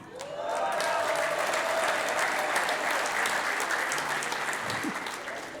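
A church congregation claps loudly during a sermon, a thick continuous burst of applause that swells quickly and holds steady before tapering slightly toward the end.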